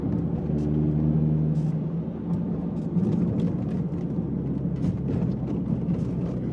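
Ford Mondeo MK3 driving on a bumpy mountain pass, a steady loud low rumble of engine and road noise heard from inside the cabin, with occasional light knocks from the suspension.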